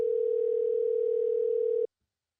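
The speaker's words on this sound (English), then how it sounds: "Can you guys hear Ricky On the phone" A single steady electronic phone tone sounds continuously for about two seconds, then stops abruptly, leaving silence.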